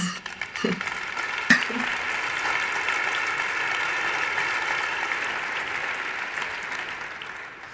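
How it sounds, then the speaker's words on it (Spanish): Steady applause from an audience at a gala presentation, a continuous dense clapping that swells after a few sharp claps and holds for several seconds before easing slightly. "este aplauso va para todos los centros, los docentes y los alumnos"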